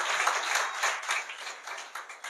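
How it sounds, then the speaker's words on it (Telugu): An audience at a church gathering claps warmly to welcome a preacher, a steady dense patter of many hands that rises and falls in small swells without pause. "గట్టిగా చప్పట్లు కొట్టి మయంపరచుదాం"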